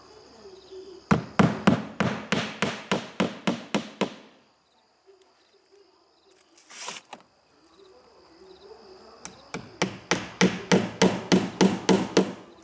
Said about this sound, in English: Push it up with your hammer.